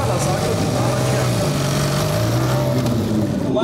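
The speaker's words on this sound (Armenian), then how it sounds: "Բենելին շատ լավ է գնում։" A Benelli motorcycle engine at a motorcycle festival drones steadily and loudly throughout, with a continuous low hum under outdoor noise as it rides past.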